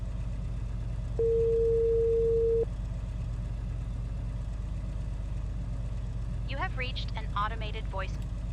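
A phone call in GTA 5 rings unanswered as one steady electronic tone lasting about a second and a half, over a constant low engine hum, followed by faint voices and high squeaky chatter.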